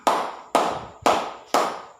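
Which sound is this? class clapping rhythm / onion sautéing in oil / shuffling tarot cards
class clapping rhythm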